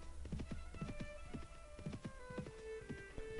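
Horses ridden by riders in Mount & Blade Warband, a quick, steady clip-clop of hooves on the ground, several beats per second, clear and moderately close, with a low rumble underneath.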